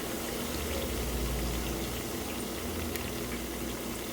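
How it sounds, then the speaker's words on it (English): Food deep-frying in hot oil while pushed down with a spider strainer, a steady dense crackling sizzle and bubbling that fills the whole stretch at close range. "I'm just using a spider and pushing them down into the oil."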